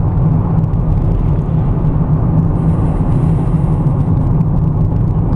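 Steady low road and engine rumble inside a BMW X5 cruising on Interstate 80, a constant close drone with tire noise and no talk, smooth and unbroken throughout.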